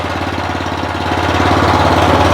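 Weima walk-behind tractor engine running in gear while rolling in reverse: a loud, close, steady rapid chugging drone that swells slightly in strength as it moves.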